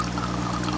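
Steady gurgling and trickling of water draining through a bell siphon, a continuous close-up flow with a low hum underneath, no voices.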